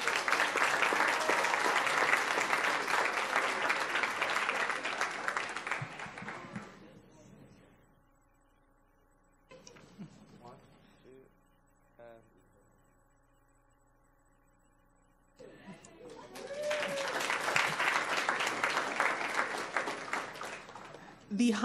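Audience at a Palm Beach County school awards event bursts into loud applause for a high school counselor, fading to near silence with scattered sounds, then a second strong round of clapping swells near the end.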